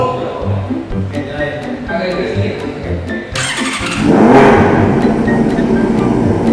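A four-cylinder motorcycle engine starts up after a stretch of background chatter, then revs loudly and steadily close by, with voices continuing underneath.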